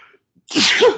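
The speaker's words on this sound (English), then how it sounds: "sorry, I'm gonna sneeze" A single loud, close sneeze bursts out after a brief quiet pause and a faint breath.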